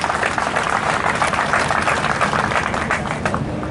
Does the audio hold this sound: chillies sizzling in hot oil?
no